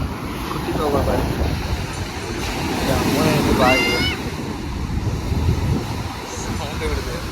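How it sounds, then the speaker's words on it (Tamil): Sea waves wash around someone's legs at the shoreline, a continuous rushing, splashing churn with wind buffeting the microphone, steady and close throughout, with faint voices briefly mixed in. "தண்ணி வந்து காலைல பட்டா சவுண்டு விடுது"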